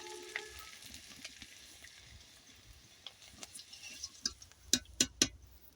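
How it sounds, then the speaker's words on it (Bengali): Homemade chips frying in hot oil, a soft continuous sizzle building toward the end with several sharp, louder crackles and pops. "তেলটা গরম হয়ে গেছে এবার আমি চিপসগুলো দিয়ে দিচ্ছি"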